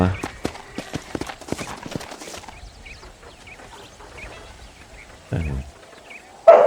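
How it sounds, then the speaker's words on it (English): Horse hooves clip-clop at a quick, steady run in the Red Dead Redemption western game, moderately close beneath ambient bird and wildlife sounds, with people talking over parts of it. "Olha o pai andando de cavalo lá, mãe."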